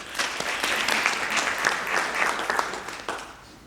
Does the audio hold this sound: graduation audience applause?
yes